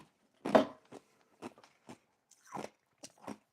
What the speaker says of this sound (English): there's like a few ice cubes left, and I'm just sort of chewing on the ice cubes